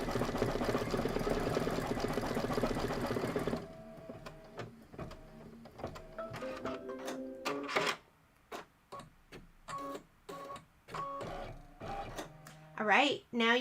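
A Kimberbell embroidery machine stitches steadily for the first few seconds with a dense mechanical whir, then stops while a person talks over quiet room sounds.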